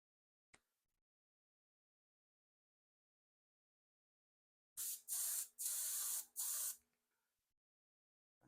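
A spray gun hisses paint onto a 1976 Monarch car in four short bursts close by, following a single faint click in an otherwise quiet room.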